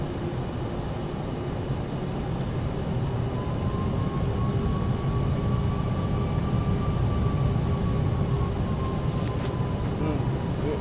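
PMDG Boeing 747 engines throttling up for takeoff in a flight simulator, a loud steady roar with a faint whine that slowly rises and falls throughout.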